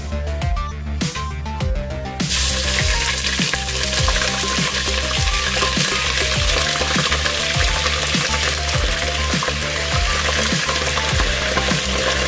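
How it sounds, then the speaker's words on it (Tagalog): Chicken fries in a pan, a loud dense sizzle that swells after a brief quieter start, with repeated stirring scrapes throughout, close and alone without speech. "Iprito natin siya muna ng bahagya para siya maluto."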